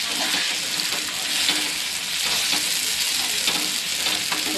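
Bhaji (vegetable curry) sizzling and being stirred in a pan, a steady loud frying hiss with scraping stir strokes throughout.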